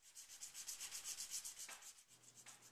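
Sandpaper wrapped around a block rubs back and forth over guitar frets in quick, even strokes, a close, steady scratchy swishing that keeps a regular rhythm, with a soft low hum entering near the end.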